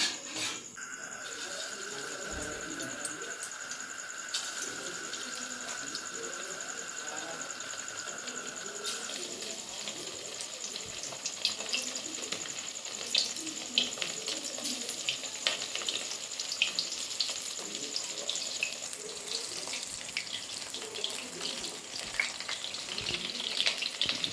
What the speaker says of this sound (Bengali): তেলটা আমার গরম হয়ে গেছে, এবার আমি পকোড়াগুলো ভাজবো।